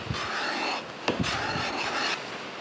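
A hand-made card scraper cut from an old hand saw scrapes across wood, lifting shavings in several steady, close rasping strokes with short pauses between them.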